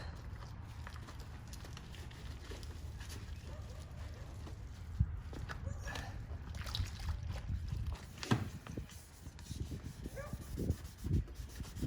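A car headlight wet-sanded by hand with 2000 grit sandpaper, a steady gritty rubbing that scrubs back and forth throughout, close and fairly strong, with occasional louder strokes.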